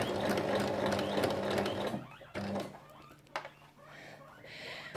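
A sewing machine pins fabric for a lined Christmas drawstring bag with a backstitch, running in a steady close whir for about two seconds, then stopping and starting again in short bursts.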